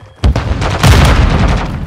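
A stun grenade bursts in Call of Duty: Modern Warfare II Domination, a sudden loud close blast that runs straight into a dense, sustained rattle of gunfire and booms.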